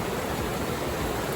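A strong current of water rushes over the Hettipola anicut at Hasalaka after rain, making a steady, dense roar that stays even and continuous throughout, with no voices.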